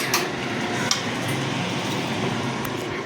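Mutton curry simmering and being stirred in a pot at a home kitchen during a family feast, with a steady dense sizzle and occasional clinks of a metal ladle against the vessel, close and continuous, no talking.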